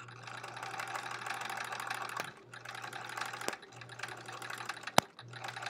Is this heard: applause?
no